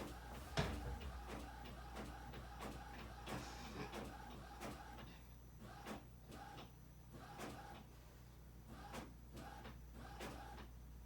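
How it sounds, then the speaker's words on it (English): A home printer prints a page with a steady run of rhythmic mechanical clicks and feed whirs repeating roughly every second, faint and close, with no talk over it. "If we can just cross our fingers that my printer's going to print."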